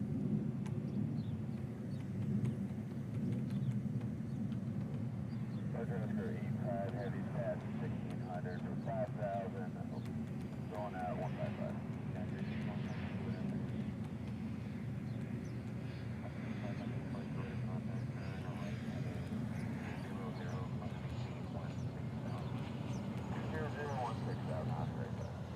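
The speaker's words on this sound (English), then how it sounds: "here's the 717. This one's coming in from Kailua Kona" A Boeing 717 airliner arrives from Kailua Kona in Hawaii as a steady, far-off jet roar that holds at an even level for the whole stretch.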